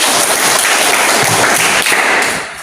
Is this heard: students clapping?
yes